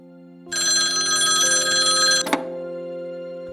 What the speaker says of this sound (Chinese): 大约1个小时后，电话铃突然响起，我立刻接听。